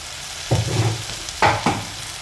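Basa fish chilli is tossed in a hot pan with tomato sauce and dark soy sauce, making a steady sizzle broken by three short, close scraping stirs.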